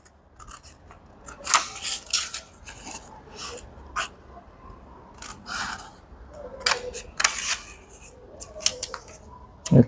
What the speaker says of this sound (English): holding the paper firmly with one hand, the scissors with another hand, guide your scissors around the shape